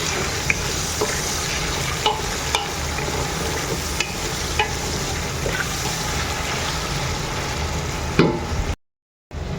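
Tomato chunks stirred into a simmering mutton curry with vegetables, a steady close sizzle and bubbling broken by soft scraping strokes of a spoon against the pot, with a brief gap near the end.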